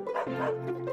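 A dog barks in a children's story: one close, loud, yelping bark that wavers in pitch and fills the short moment on its own.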